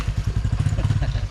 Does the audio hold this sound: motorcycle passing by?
yes